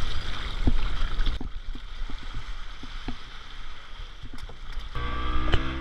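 Boat ride out on the sea off Sri Lanka ahead of a scuba dive, with a steady rumble of motor and water rushing past the hull, fairly loud and continuous with occasional knocks and splashes.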